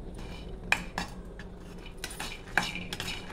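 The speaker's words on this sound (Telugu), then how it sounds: "స్టవ్ వెలిగించుకుని బాణీ పై మీద పెట్టుకుని నేరేడుకాయలు దీనిలో వేసుకోవాలండి" Jamun seeds tipped into a pan on a lit stove, giving a few sharp metallic clinks and rattles against the pan, close up and with no talk, over a faint background hum.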